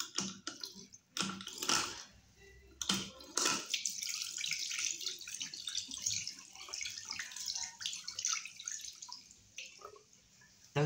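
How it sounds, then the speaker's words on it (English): Water runs steadily from a water-saving tap with a continuous hiss and splashing, with a few sharper drips and clicks near the start. "Those water saving taps are so rubbish."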